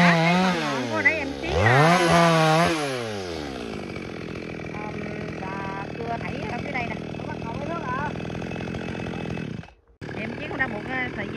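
A chainsaw revs hard up and down, then settles into a steady buzzing cut into a large eucalyptus tree, briefly stopping near the end before starting again.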